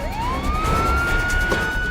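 A police car siren wails close by, one loud rising sweep that settles into a sustained high tone, with no talk over it.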